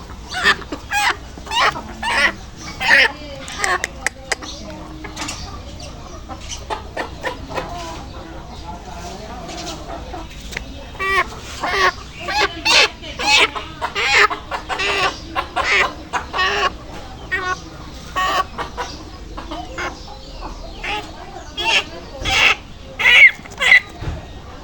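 Sick chickens cluck repeatedly in short, loud bursts close by, a steady rhythmic stream of calls with occasional human voices beneath.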